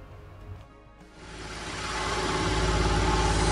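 An engine fitted with a larger 185 main jet and replaced valve springs cranks briefly, catches, and rises into a steady, loud running drone that settles into an idle.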